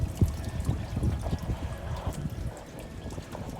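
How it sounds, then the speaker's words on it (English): Water running through a homemade hydroponics tower and spilling out of the open holes where the plant cups are missing, a steady close splashing and trickling with irregular drips. "the water is really running nicely. I don't have the little cups on there yet, so it's spilling out"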